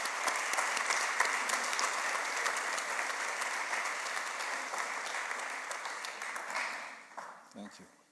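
An audience at an evening art forum event applauds to welcome the speakers, sustained steady clapping that fades out near the end as a voice begins.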